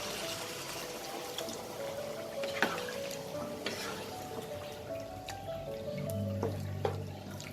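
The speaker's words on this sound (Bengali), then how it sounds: "অল্প জল দিয়ে দেবো।" Water is poured into a pan of well-fried spice masala with ginger in a home kitchen, producing a soft hiss and sizzle with light splashing and stirring, faint and steady throughout.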